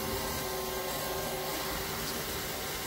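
A carpet cleaning machine rinses a badly soiled carpet, giving a steady, close whooshing suction roar that holds level throughout with no talk.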